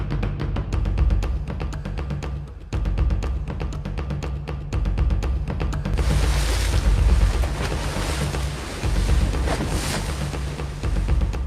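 Strong wind of 15 to 25 knots and rough, big Pacific swells around a canoe off the Marshall Islands, with constant wind buffeting the microphone and waves crashing and surging, loudest in the second half.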